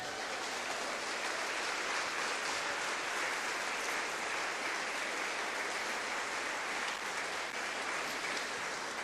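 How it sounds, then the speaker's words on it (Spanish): A church congregation in Zitácuaro gives sustained applause during a worship service, a faint, even, continuous roar of many hands clapping that holds steady throughout. "¿Le puede dar una ofrenda de palmas al Señor por eso?"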